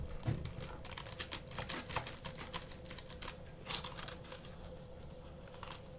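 A knife cuts through a freshly baked Turkish breakfast pastry, making a quick run of crisp, crackly crunches. The sound is close and moderately loud, then tapers off toward the end, with no speech.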